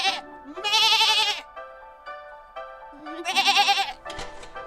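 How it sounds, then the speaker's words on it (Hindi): Cartoon goat bleating loudly in two long wavering calls, with short tonal voices or music between them. "मंत्री, बकरी का वजन करके बिमला को एक छोटी बकरी दे दीजिए।"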